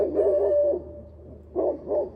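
A dog barks at the neighbors' goats, a few deep hooting woofs in two bursts, fairly close and clear with no talk.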